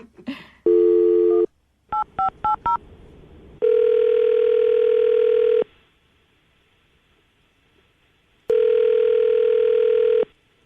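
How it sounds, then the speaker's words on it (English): A telephone call being placed: a steady dial tone, then a quick burst of keypad dialing tones, followed by two long ringback tones separated by a pause, loud and clear with no talking. "All right, I'll call it right now."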